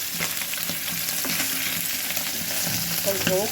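Small fish fry in hot oil in a pan, giving a loud, constant crackling sizzle with occasional spatters and scraping clinks close by.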